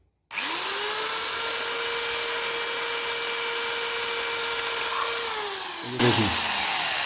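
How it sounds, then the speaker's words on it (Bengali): An electric drill bores a hole through the center of a clay cup, a steady high whine running continuously for about five seconds alone, then dropping off as the bit breaks through into a brief rougher rattle. "এই যে ড্রিল দিয়ে এই কাপটা এখানে আমি ফুটো করে নেব"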